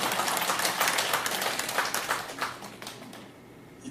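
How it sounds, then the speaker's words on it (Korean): A church congregation claps together during a Christmas service, a dense wash of many hands that starts loud and thins out toward the end, with no talking over it. "다시 한번 박수 칠까요?"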